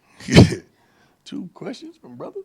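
A single sharp sneeze bursts out in a press conference room, loud and close, followed after a pause by someone talking.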